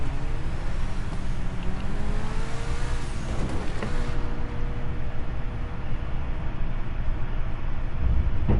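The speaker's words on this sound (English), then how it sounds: "turning back into a regular car, and driving out of the water" In the video game GTA, an amphibious car drives up out of the water and turns back into a regular car, its engine droning and revving steadily, the sound shifting character partway through and carrying on without talk.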